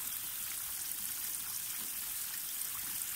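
Water from a watering can pours steadily onto a no-till field, a continuous soft splashing trickle, close and fairly quiet, with no pauses through the whole pour.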